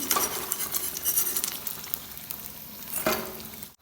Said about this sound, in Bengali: এখন আলুগুলো ভেজে নিচ্ছি